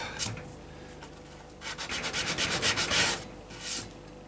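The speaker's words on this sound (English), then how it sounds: "A round bit of sandpaper, that is" A round piece of sandpaper rubs against a wooden bow tip, quiet at first, then a rapid series of scratchy back-and-forth strokes and a last short pass, with no talking.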